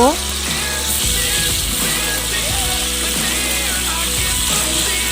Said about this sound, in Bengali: তেল দিয়ে দিলাম কড়াইয়ে তারপর দিয়ে দিলাম আলুগুলো আলুগুলো আমি লাল লাল করে ভেজে নেব